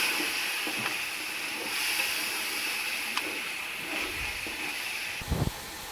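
Onion and tomato paste fry in a pot while a basic all-purpose gravy is being made, producing a steady, even sizzling hiss with a brief clink of a utensil near the end.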